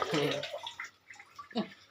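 Water runs and splashes briefly from a tap, with a few faint voice fragments mixed in.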